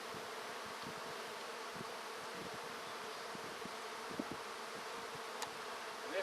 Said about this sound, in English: And this hive is just packed full of bees. Really packed.